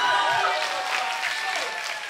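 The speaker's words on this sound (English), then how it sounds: "One last round of applause for Onion and Ling Vu" An audience at a school talent show applauds performers, a short burst of clapping with cheering tones that fades slightly toward the end.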